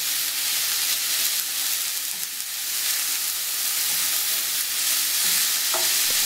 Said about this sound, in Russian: Обжариваем овощи на сале до прозрачного вида, периодически помешивая лопаткой.